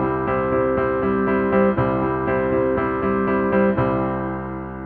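A piano plays a steady run of repeated chords with regular struck attacks, sustained notes ringing beneath, as one part of a guitar, piano and strings arrangement, played alone without talk.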